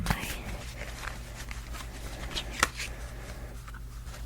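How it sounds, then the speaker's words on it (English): A deck of tarot cards bowed from handling is shuffled against a surface, giving soft, close riffling and papery flutters with a few sharper taps, quiet and without talk. "It's easier to shuffle if I have a surface to shuffle on."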